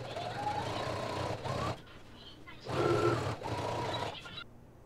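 A sewing machine stitches basted pleats on fabric for wide-leg pants, running in two steady bursts of motor whir with a short pause between, fairly close and loud.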